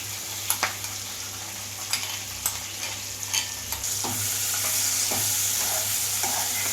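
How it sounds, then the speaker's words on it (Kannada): Paneer frying in a pan as spicy marinade is stirred in, with sharp spoon-and-pan scrapes and knocks at first, then a steady close sizzle that swells as the mixture cooks. "ಇದಕ್ಕೆ ನಾವೇನು ಮ್ಯಾರಿನೇಟ್ ಮಾಡಿ ಇಟ್ಟಿದ್ವಲ್ಲ, ಸೊ ಅದನ್ನೆಲ್ಲ ಇದಕ್ಕೆ ಮಿಕ್ಸ್ ಮಾಡ್ಕೊಂಬಿಡೋಣ"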